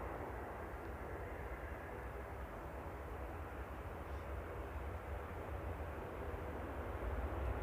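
Steady, distant roar of an airliner landing at Manchester Airport on a flight from Copenhagen, a broad rumble that holds and swells slightly toward the end, with no voices over it.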